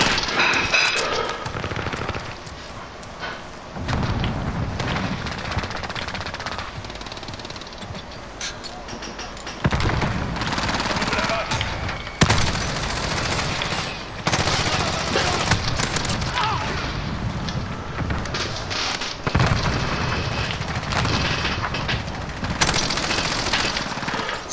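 Rapid gunfire bursts and explosions from a Call of Duty: Modern Warfare match, with loud automatic weapon fire and booms running continuously throughout, while a player talks over the action.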